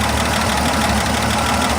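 An old carbureted engine, not run in nearly two years, idles loudly and close after carb cleaner is sprayed into the carburetor, with a steady rough rumble and faint knocking.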